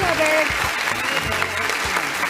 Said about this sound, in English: Studio audience, give him a round of applause.